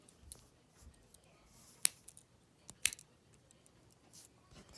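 Small scissors on a vintage pocket knife snip twice, sharp close clicks about a second apart against a quiet background with faint handling noise.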